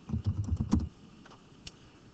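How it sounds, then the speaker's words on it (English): Brief burst of keyboard typing: a quick cluster of soft key clicks over under a second, then one faint stray click, close and quiet with no voices. "over here I'm going to type in Batman"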